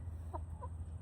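A chicken in a coop gives two short, soft clucks, faint and nearby, over a steady low background hum.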